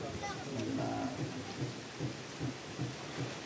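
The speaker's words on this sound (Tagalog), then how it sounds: "Humuros na ang ulan." Heavy rain pours down, a dense continuous wash of noise with low rumbling thumps pulsing underneath, no speech during it.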